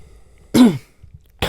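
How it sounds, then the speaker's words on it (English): A single close, sharp cough lasting about a quarter second, then a brief quiet gap and the onset of another cough at the end. "I'm just coughing."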